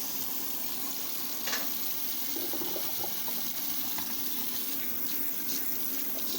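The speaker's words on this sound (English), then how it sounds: "Run that cold water over that pasta for a couple of minutes." Cold water from a kitchen tap runs steadily over hot drained pasta in a sink, a constant rushing splash with a few brief spatters, close and fairly quiet, with no talking.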